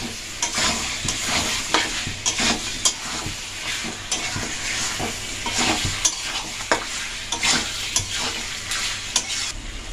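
Kanti masala, a ground spice mix, frying in a pan for Kashmiri chicken kanti, with a steady sizzle and repeated scraping stirs of a spoon throughout, close and fairly loud, no talking.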